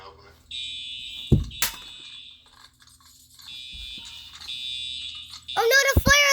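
A fire alarm goes off after a pull station is pulled, a loud piercing electronic tone sounding in long bursts with a thump nearby and children's voices near the end.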